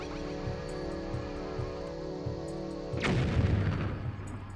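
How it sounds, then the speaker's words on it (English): A bomb blows up in a temple stage of a video game, a loud booming burst with a rumbling tail that lands partway through a steady backdrop of game music and ambience. "Can I just throw a bomb at him?"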